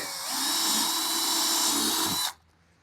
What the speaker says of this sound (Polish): No to wiercimy pierwszy otworek.